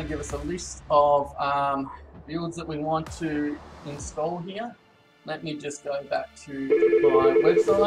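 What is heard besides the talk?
telephone ringing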